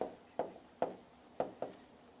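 Chalk or marker strokes scrape across a board in a chemistry lesson, with four or five short, distinct strokes at an even pace, close and fairly quiet.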